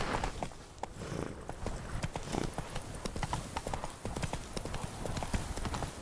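Roach, the horse in The Witcher 3 video game, runs with steady, rapid hoofbeats clopping close by, a continuous galloping rhythm with no voices.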